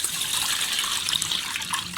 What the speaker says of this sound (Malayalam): അപ്പം നമുക്കിതിലേക്ക് വെള്ളം ഒഴിച്ചു